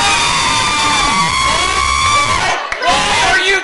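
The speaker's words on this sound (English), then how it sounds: "Why are you cheering?" A crowd of Twilight fans in a movie theater cheers and screams loudly and continuously, with high whoops and shrieks, briefly dipping before surging again.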